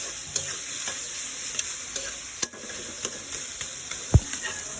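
Leafy greens frying with garlic in a pan are stirred, giving a steady sizzle with soft scrapes and a few sharper knocks of the spoon against the pan, close and without talk.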